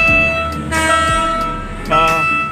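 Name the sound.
passing train sounding its horn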